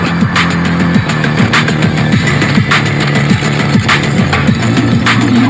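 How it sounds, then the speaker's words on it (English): A Tata Sierra's turbocharged 1.5-litre four-cylinder engine runs with a steady, loud mechanical hum and rhythmic low pulses throughout, close and continuous with no talk. "Where others gasp for air, this turbocharged engine just keeps breathing"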